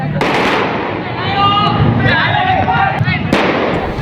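Firecrackers pop during a teenage street brawl on a city road in East Jakarta, sharp bursts standing out over a shouting crowd and general street commotion.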